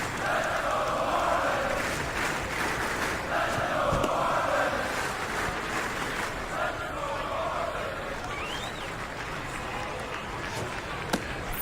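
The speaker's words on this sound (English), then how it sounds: "that crowd noise is still really loud" A loud crowd roars in a baseball video game, a steady wash of cheering and murmur that rises and falls across the clip, with faint talk in the background.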